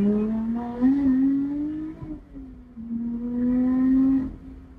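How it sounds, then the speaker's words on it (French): A Lotus Exige 410S sports car engine with a manual gearbox revving hard, its rising and falling snarl sweeping up, dropping briefly and climbing again in two strong pulls, heard close and alone. "c'est fou cette boîte manuelle, ce moteur qui est rageur"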